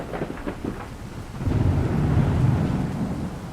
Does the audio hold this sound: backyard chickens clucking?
no